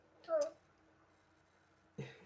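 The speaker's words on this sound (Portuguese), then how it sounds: "Tá com tosse, meu amor?" A small child gives a short harsh cough, then after a quiet pause another brief cough-like burst, both close and faint against low background hiss.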